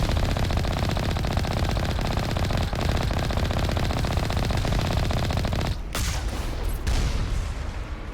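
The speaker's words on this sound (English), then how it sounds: "Oh, it's a moving turret." A moving turret in a video game fires rapid automatic bursts, a dense, loud machine-gun-like rattle that runs unbroken for several seconds, then cuts to a few sharp stuttering bursts near the end.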